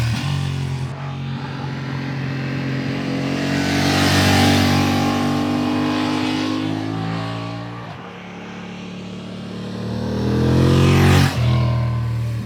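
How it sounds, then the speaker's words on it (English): A 2023 Honda CB750 Hornet middleweight naked motorcycle passes by twice, its engine note rising and falling with gear changes and revving, loud and fairly close, the second pass peaking sharply before fading. "here are a couple of flybys from the Hornet launch,"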